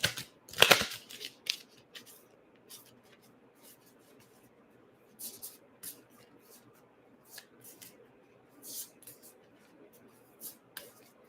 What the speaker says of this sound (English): so I'm going to just shuffle the cards here